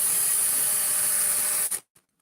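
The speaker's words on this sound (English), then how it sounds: "let's drill that out" A power drill bores out the head of a small metal rivet on a toy handcuff piece, a steady high-pitched whine running close and loud for nearly two seconds before cutting off abruptly, followed by a brief tap.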